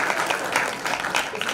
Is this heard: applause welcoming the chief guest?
yes